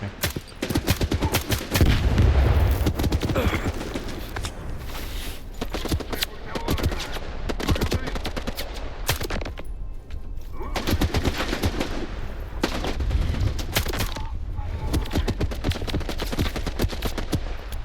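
Rapid automatic and single gunshots crack through a firefight in S.T.A.L.K.E.R. 2 set in the Red Forest, bursts repeating close and loud with brief lulls over nearly eighteen seconds.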